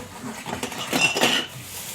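A pot lid is handled among dishes, producing a cluster of close metallic clinks and rattles around the middle, with light clatter before and after and no talking.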